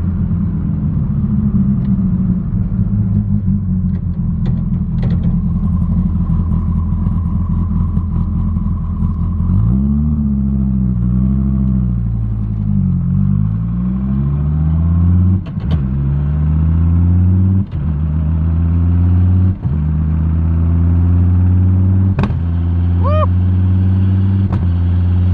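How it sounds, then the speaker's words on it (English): Twin-turbo 1800 hp Dodge Viper ACR exhaust recorded right at the pipe during a full-throttle pull, a loud deep droning roar climbing steadily in pitch, broken by several sharp gear shifts and a turbo whistle near the end. "I have a GoPro right next to the exhaust, so when we make the pull, you'll be able to hear it, what it sounds like."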